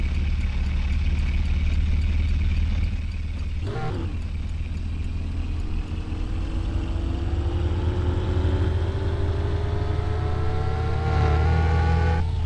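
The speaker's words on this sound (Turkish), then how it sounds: "Ne kadar gürültülü bir araba" A car engine runs loud and steady close by, with its pitch rising gradually as the revs climb, then a brief bump in the middle; no talk.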